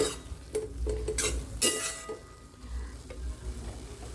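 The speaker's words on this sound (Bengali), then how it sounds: "এর জন্য সুজিতে টানতে থাকবে আর একটু একটু করে দুধ মেশাতে থাকতে হবে।" Semolina being stirred with milk in a pan for pumpkin halwa, a soft scraping stir with light sizzling and a few clinks of the spoon, close and moderately quiet with no talk.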